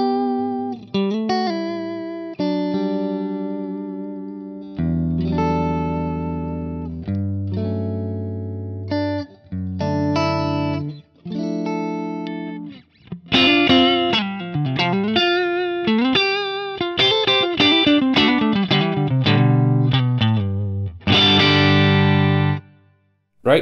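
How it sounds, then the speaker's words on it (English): Electric guitar through a Fractal AX8 on a Dumble ODS 100 clean amp model with a little grit, single notes and ringing chords in phrases separated by short pauses, played alone with no talking. "This is a Dumble ODS 100 clean, and this is the cab configuration that's happening here"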